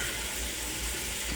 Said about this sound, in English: I don't measure my milk, I just pour.